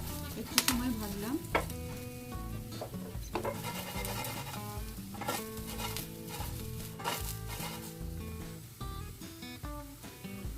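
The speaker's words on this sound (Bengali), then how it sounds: "আবারও একটু সময় ভাজলাম।" Cut sweet potato pieces fry in a pan for sweet potato chaat, a steady sizzle broken by repeated sharp scrapes and knocks of a spatula stirring against the pan.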